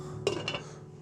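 A metal lid set onto a pot of curried sweet potato and butternut squash soup, giving two quick close clinks a fraction of a second apart over a low kitchen hum.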